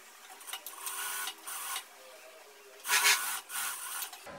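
A sewing machine stitches fabric for a wrap blouse, running in several short bursts with brief pauses between them, steady and close.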